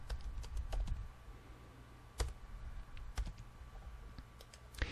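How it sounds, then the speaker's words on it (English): Keys on a computer keyboard tap in short, irregular bursts of clicks at low level, close up and alone against a quiet background. "You can type in the content that you want here."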